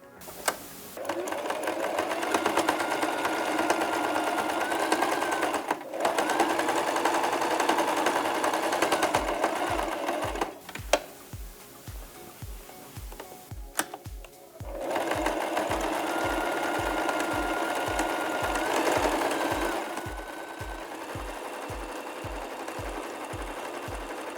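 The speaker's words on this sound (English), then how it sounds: "You can start sewing on one end and then all around the strap." A sewing machine stitches all around the edges of a fabric strap, running in steady buzzing bursts with short pauses between, close and loud, then slower rhythmic stitching.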